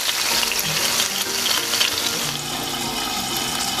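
Red snapper sizzling on a hot grill, a dense, steady close crackle and hiss that runs without a break and with no voices.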